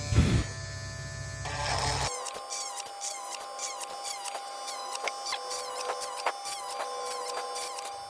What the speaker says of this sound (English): I have drilled all the holes wherever it was